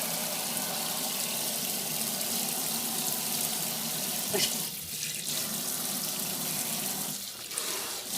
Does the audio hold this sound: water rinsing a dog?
yes